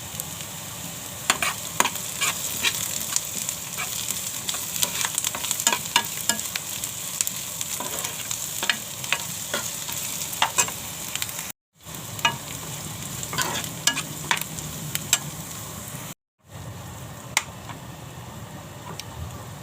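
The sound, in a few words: onion frying and being stirred in a pan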